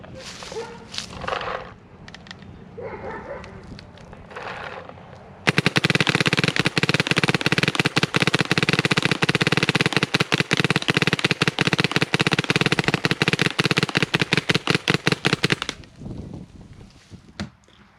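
Planet Eclipse Ego 10 paintball gun firing on uncapped ramping, a loud, dense burst of rapid shots lasting about ten seconds, with quieter handling noises before and after.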